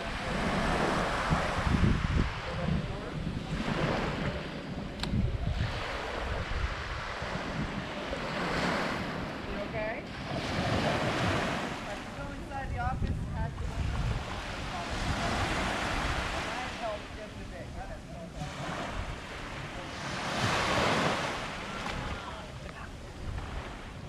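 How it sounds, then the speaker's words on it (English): Ocean waves wash onto the beach at Secret Harbor in slow, recurring surges, mixed with gusty wind noise on the microphone while someone talks. "I'm sure you can hear the lovely waves in the background."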